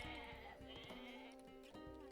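Goats in the strategy game Age of Mythology give several short, nasal bleats in quick succession, fairly quiet over a soft game background.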